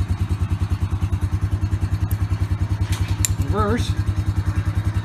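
A 2005 Honda Rancher ATV engine idles with a steady, rapid thumping pulse close by, a brief rising rev in the middle, and a short spoken word over it.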